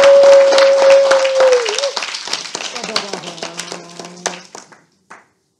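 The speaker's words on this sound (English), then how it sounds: "So let's give everybody a round of applause." An audience at a talk gives a round of applause. Dense clapping starts loud, then thins into scattered claps and fades out over a few seconds, with a steady tone and voices faintly underneath.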